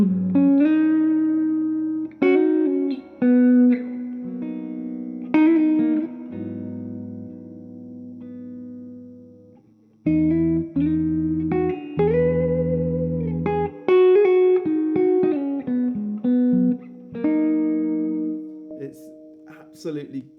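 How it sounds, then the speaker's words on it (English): Guitar notes and chords ring out through a Two Rock Bloomfield Drive amplifier, each one washed in long, lush spring reverb tails that linger between phrases. "The best reverb I've heard. It smothers you, it wraps you in reverb."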